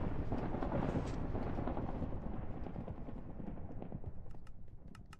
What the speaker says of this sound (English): That's thunder, right? That's not anything exploding.